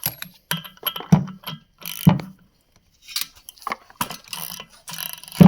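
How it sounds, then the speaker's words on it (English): Ratcheting clicks of a wrench turning over a KT100 kart engine during assembly, short bursts of close, loud ratchet and gear sounds separated by brief pauses. "So now I'm going to roll the motor over with my wrench."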